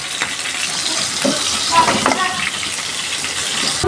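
Steady crackling sizzle of chital fish pieces frying in hot oil, loud and close, continuing without pause for the whole stretch.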